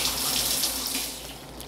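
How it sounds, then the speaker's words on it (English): Water runs from a kitchen tap in a steady, close stream for a couple of seconds, being added to thin pancake batter for cast iron pancakes. "Add a little bit more water."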